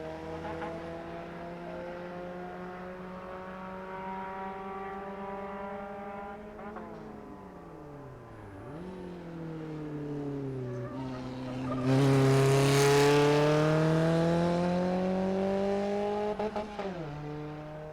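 Race cars competing in a JK Tyre race, engines droning steadily with shifting pitch as cars pass and change gear, then a loud burst of a car roaring close by before fading, with no talking.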